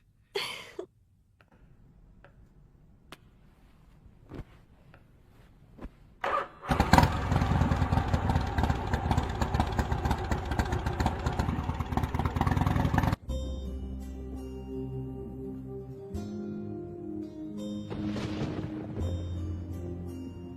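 A motorbike engine starts with a burst of loud, rough revving and then pulls away, its drone fading and giving way to background music.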